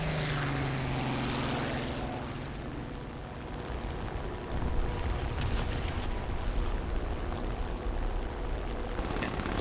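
Propeller fighter engine from the War Thunder air combat game drones steadily throughout, with a louder rumbling surge near the middle, like a biplane passing or weapon fire, and no talking.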